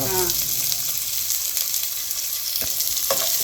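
A steady, loud sizzle of onions frying in hot oil, with a few soft stirring knocks and scrapes.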